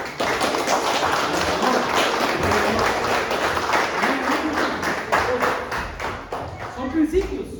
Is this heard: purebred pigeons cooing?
no